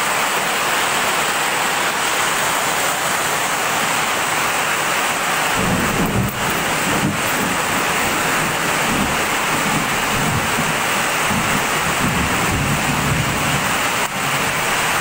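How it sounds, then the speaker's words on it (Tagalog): Heavy rain pours continuously with a dense hiss, while deep rolls of thunder rumble through the middle and later part. "Sobrang lakas ng ulan."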